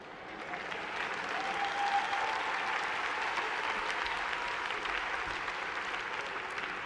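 Sustained applause from a large graduation audience filling an arena at a Tuskegee University undergraduate commencement, steady and dense throughout with no break, heard from a distance.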